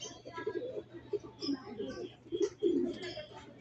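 Pigeons cooing softly and repeatedly on arriving home at a loft, low throaty coos in a steady run, close but quiet.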